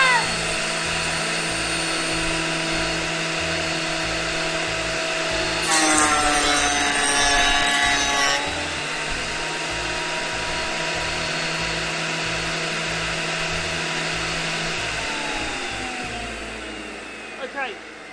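A Metabo DH330 electric planer fitted with new knives cuts a wooden face, giving a steady high whine under a droning hum, with a harsher rasping burst partway through before it settles and winds down near the end.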